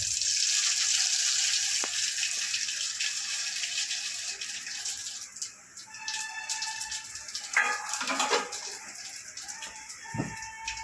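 Mustard seeds and cumin frying in hot oil, a bright steady sizzle that fades gradually and gives way to scattered pops, clinks and splashy clatter near the end.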